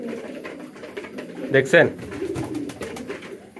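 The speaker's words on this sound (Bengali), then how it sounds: "অন্য সকল কবুতরের সাথে ডাগাডাগি করতে থাকে" Pigeons cooing softly at a pigeon market, with a couple of louder calls near the middle, heard under someone talking.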